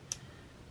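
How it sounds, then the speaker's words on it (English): A new bead cutter snips into crystals for beadwork, a single sharp, quiet click near the start against a faint, steady background hush. "let's use our new cutter to just cut into these crystals here"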